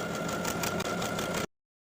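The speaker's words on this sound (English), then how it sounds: "within the width of the waistband, I'm going to sew a vertical buttonhole" Sewing machine stitching a vertical buttonhole in a wrap skirt waistband, a fast steady mechanical whir with rapid needle clatter, close and continuous, cutting off abruptly.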